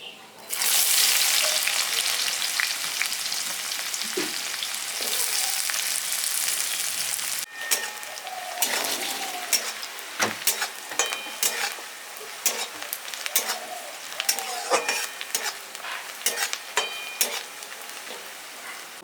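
Chopped onion and a pinch of asafoetida dropped into hot oil, a loud burst of sizzling that settles into crackling frying with frequent clattering stirs and spatula knocks, close up.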